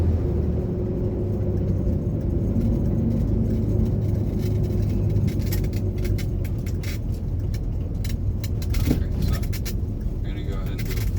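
Heard from inside, a Chevrolet Corvair drives along with a steady, loud low rumble as it stutters through an early gear shift. Light rattles and clicks sit over the drone, with some talk in the cabin.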